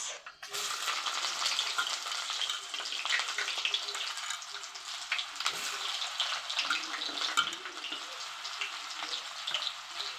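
Panch phoron spices sizzle steadily in hot oil in a pan, a close, even crackling hiss with small pops that carries on alone for about ten seconds.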